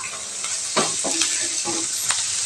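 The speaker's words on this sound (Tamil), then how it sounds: "காய்க்கு தேவையான உப்பு சேர்த்து நல்லா வதக்கி விட்டுக்கலாங்க." Salted vegetables sauté in a pan, a steady close sizzle punctuated by several distinct spatula scrapes and taps in an uneven rhythm.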